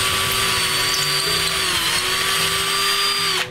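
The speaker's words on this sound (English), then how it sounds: "So now I take my drill, and I'm just gonna drill my starter holes for the anchors." A power drill bores starter holes into a wall for anchors, a loud, steady close-up whine with a constant pitch that cuts off abruptly at the end.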